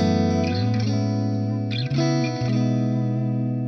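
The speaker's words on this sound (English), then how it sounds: "So yeah, it's a really nice clean sound." Clean electric guitar with a humbucker-single-single pickup layout, played through a Hotone Ampero II Stage; sustained, ringing chord tones with a couple of note changes, close and even in level, with no voice.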